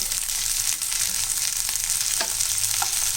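A handful of mint leaves fries in an oiled pan with a close, steady sizzle and a couple of brief scrapes from stirring.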